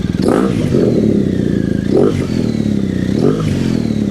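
A nearby cold BMW R1250/R1200 GSA motorcycle engine with an Akrapovic titanium exhaust revs to 3,000 rpm three times in quick swells over a rumbling idle, each rise brief and loud.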